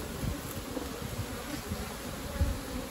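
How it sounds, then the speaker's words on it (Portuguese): A large, defensive swarm of honeybees hums steadily around an open beehive during a honey-super inspection, a dense close buzz with no talking. "É muita abelha esse enxame aqui,"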